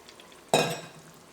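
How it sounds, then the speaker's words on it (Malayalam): Chickpeas and their cooking water go into a Kerala roasted-coconut chickpea curry in hot oil, giving one sudden loud splash and sizzle that fades over about a quarter second, then quiet. "ഇനി ഇതിലേക്ക് നമുക്ക് കടലയും കടലയുടെ വെള്ളവും ചേർക്കാം."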